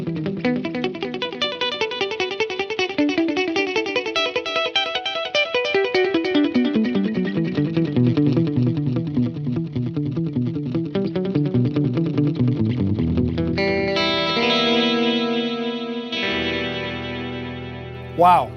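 Electric guitar through a Fender Mustang Micro headphone amp with stereo delay, sustained distorted chords and notes trailed by echoing repeats that pan slowly from side to side, steady and full, ending with brighter plucked notes.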